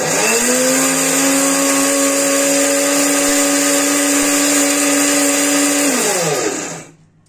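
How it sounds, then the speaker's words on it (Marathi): An electric mixer grinder with a large jar grinds farm-grown fenugreek seeds fine, a loud steady whir for about six seconds before the motor winds down and falls silent. "असं मिक्सरला लावून एकदम बारीक करून घ्यायच्या आहेत मेथ्या"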